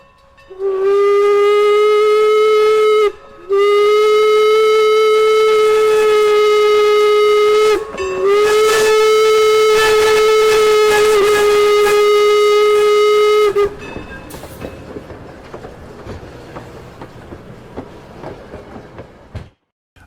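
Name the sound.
passing steam train with whistle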